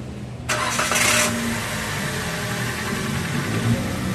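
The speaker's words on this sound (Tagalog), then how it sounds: "tapos pa-start ko na itong makina" A Toyota Avanza engine cranks and catches after an oil change, then settles into a steady, close idle hum that runs on alone with no talk over it.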